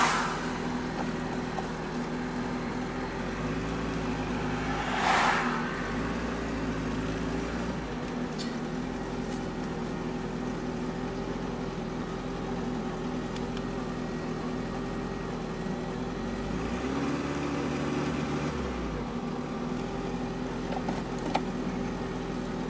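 A turbocharged 1986 Toyota MR2 engine idles at a raised, steady speed, a constant low drone with a few faint clinks and shifts, heard close and alone without voices.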